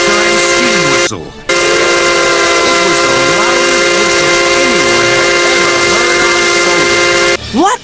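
A locomotive's new three-chime steam whistle blows loud and sustained with rich harmonic chords, a brief gap near one second, then another blast running until a short break and a final burst near the end.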